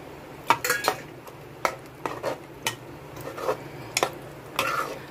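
A spoon stirs green peas curry with tomatoes and salt in a pressure cooker pot, making irregular metallic scrapes and clinks against the metal with soft sloshing between them, close up.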